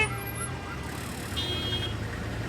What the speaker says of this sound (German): Das ist der Krankenwagen.